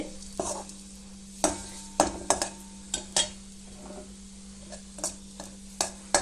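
Tamarind roasting in oil in a pan for moringa-leaf idli podi: soft sizzling under repeated scraping and clinking strokes of a spatula against the pan, irregular and close, with no talking.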